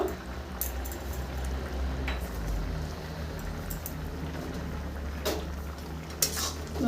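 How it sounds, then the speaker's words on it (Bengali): Bottle gourd is stirred with a spatula in a pot on a gas stove, faint scraping and clinking over a low steady hiss of cooking, with occasional sharper metal taps. "এইভাবে লাউগুলোকে এইভাবে খুন্তি দিয়ে একটু যেভাবে আমরা লাউ ঘন্ট বানাই ফেচকি বানাই এইভাবে একটু ঘেঁটে ঘেঁটে দিবেন"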